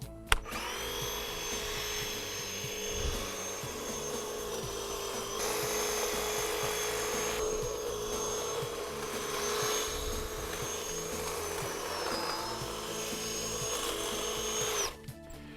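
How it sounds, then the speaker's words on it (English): A battery-powered hedge shear trims a garden hedge with a continuous high motor whine and buzzing blade chatter, holding steady and close for about fifteen seconds before cutting off. "I love this particular battery-powered hedge shear because it doesn't make a lot of racket"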